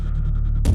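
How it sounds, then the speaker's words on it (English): An all-pass filter in Volcano 3 modulated so its phase shift sweeps, heard as a steady low throbbing hum with a slow pulsing rhythm that swells into a brighter burst near the end. "But if I modulate that all-pass filter, I'm hearing that now."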